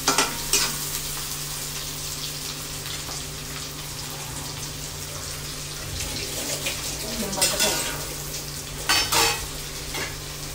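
Onions fry and are stirred in a pan for poha, a steady sizzle beneath sharp spatula scrapes and clinks that come in short bursts, close by, with faint background voice.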